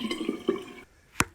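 Water draining from a sound pack, heard as a short watery gurgle with a couple of glugs followed by a single sharp drip, close and brief.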